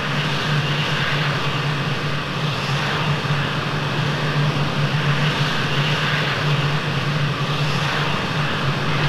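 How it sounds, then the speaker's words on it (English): An F-16 in a flight simulator game roars steadily through its takeoff, a loud continuous engine drone with no breaks or changes in level. "We're going to take off here and fly to Angels 25 to complete the ferry flight"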